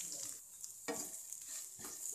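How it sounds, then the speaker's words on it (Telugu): Coriander chutney stirred into a sizzling garlic tempering on low flame, a soft continuous sizzle broken by three or four scraping strokes of a spoon in the pan. "ఈ విధంగా కలుపుతూనే ఉండాలి"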